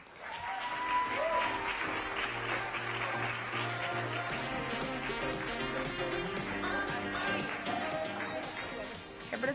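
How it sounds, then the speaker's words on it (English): Audience applause welcoming the host at a Latin GRAMMY award-style event, steady sustained clapping filling the room under music or voices, with sharper claps standing out toward the end. "join me in a huge round of applause"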